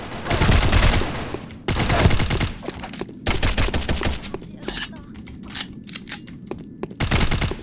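Gunfire in the online shooter Sudden Attack: loud bursts of rapid automatic shots in several volleys separated by short pauses, with a voice speaking between them.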